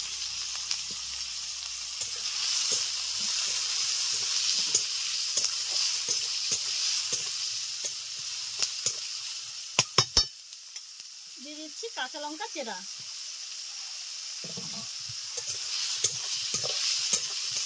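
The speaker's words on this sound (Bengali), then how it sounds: "আলুগুলোকে একটু ভাজা ভাজা করে নেব।" Potatoes fry and get stirred in a pan while Bengali-style poha is being made. A steady sizzling hiss runs throughout, with scraping stir strokes and a few sharp clinks, and someone talks briefly partway through.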